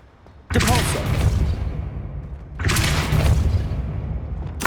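Two heavy spell blasts of Depulso in Hogwarts Legacy, each a sudden loud whooshing boom with a rumbling tail, the second following about two seconds after the first.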